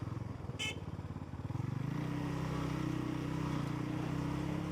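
A Falcon Freedom 250 motorcycle engine idles and revs close by, with a rattling chain clatter from a chain needing adjustment running steadily under the rough motor drone.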